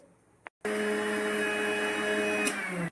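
A mixer grinder whirs loudly and steadily for over two seconds as it grinds pepper, cumin and garlic, starting after a brief blip and silence and running with a bright motor whine until it cuts off.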